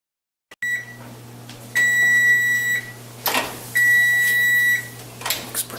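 An electronic kitchen timer sounds two long steady beeping bursts, loud and close, in a quiet kitchen with a low steady hum beneath.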